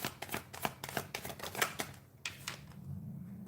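A deck of tarot cards being shuffled, crisp riffling flutters in quick bursts, fairly quiet and close, pausing near the end before a softer shuffle resumes.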